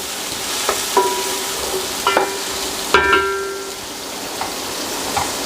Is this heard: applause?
no